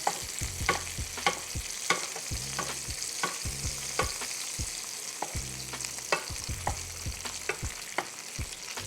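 Salmon bites fry in a skillet with a steady sizzle. Oil is spooned over them again and again, and the spoon taps and scrapes the pan in a brisk, fairly regular rhythm up close, with no voices.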